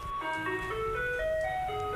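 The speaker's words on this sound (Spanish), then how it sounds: "cuando llega el camión de la basura" Taiwanese garbage truck arriving while playing its melody, a bright electronic tune of sustained notes over a low engine rumble, clear and fairly close.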